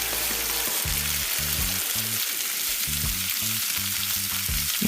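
Garlic, pimentoes and carrots sizzle in a hot pan for a curry coconut corn soup, a loud, steady crackling fry close by, with some low knocking from stirring and no talk.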